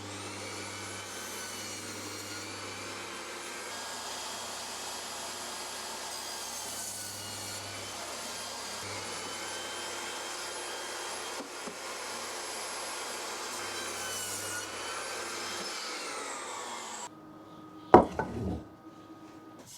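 A power saw, its blade tilted to 15 degrees, cuts angles on the top and bottom of wooden saw horse legs. Its motor whines steadily for about seventeen seconds, then spins down and ends with a few clunks.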